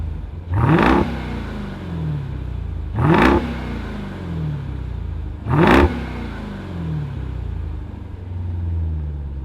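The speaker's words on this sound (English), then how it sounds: "let's fire it up and hear what that supercharged HEMI sounds like" The supercharged HEMI engine of a 2026 Dodge Durango Hellcat Jailbreak SUV is revved three times, each a sharp rising bark with supercharger whine, settling back to a deep idle rumble between blips.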